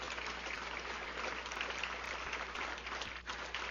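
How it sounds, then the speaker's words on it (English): An audience at a fire training center graduation ceremony gives sustained applause, dense, even clapping filling the hall for several seconds without pause. "Please give them all a round of applause for a job well done."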